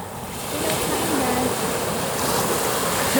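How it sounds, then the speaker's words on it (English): Ocean surf on Hawaii's North Shore roars in a continuous wash, growing louder after the opening moment, with wind noise mixed into the steady crash of waves. "There are a lot of waves here."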